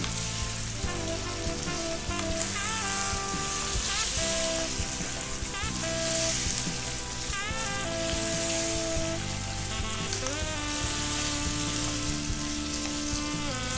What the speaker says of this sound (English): As you can see, my meat is nicely frying